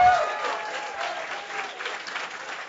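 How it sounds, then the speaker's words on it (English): An audience at a startup weekend presentation applauds the judges, continuous clapping at moderate distance holding steady for nearly three seconds with light crowd murmur underneath. "let's give a round of applause to our judges."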